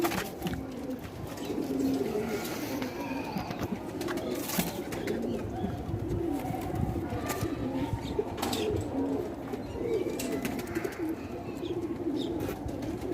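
Pigeons coo steadily nearby at a loft, with soft chirps and occasional wing flaps and clatter breaking through, over quiet outdoor background with no talk.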